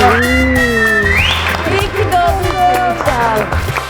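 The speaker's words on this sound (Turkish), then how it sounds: "İşte buna alkış yaparız" A studio crowd applauds for a birthday on a Turkish television show, with clapping under loud cheerful talk, shouting voices and a singing-like tone over the top.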